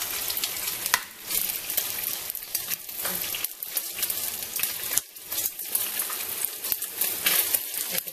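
Beef sizzling steadily in a pan for Filipino bistek, with a loud, bright, continuous frying hiss, occasional stirring scrapes and brief dips, heard up close with no talking.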